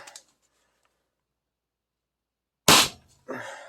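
A First Strike CO2 air pistol powered by a 20g CO2 cartridge fires a single sharp, close shot after a stretch of silence, followed by a brief burst of noise.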